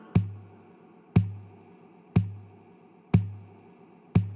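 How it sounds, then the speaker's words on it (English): Guitar percussion in a steady rhythmic pattern: five evenly spaced knocks on the guitar body about once a second, each with a low thump and short decay, played alone. "And there is also a couple of guitar percussion."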